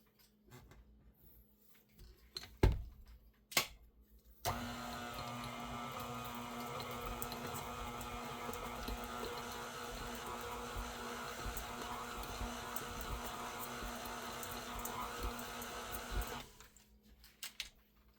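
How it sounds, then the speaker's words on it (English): A stand mixer with a dough hook kneads whole wheat dough, a steady motor hum with faint ticking that starts abruptly, runs evenly for about twelve seconds, then stops, preceded by a couple of sharp knocks. "I just put it back on the mixer, put the dough hook on it, and mix it up again until it cleans the sides of the bowl off."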